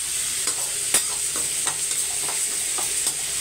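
Toor dal and poppy seeds dry-roast in a pan, a faint steady sizzle broken by soft scraping stir strokes every half second or so, close and without talk.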